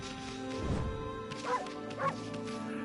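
In the video game Okami HD, a cartoonish dog bark sounds twice in quick succession over sustained game music, following a softer thud early on.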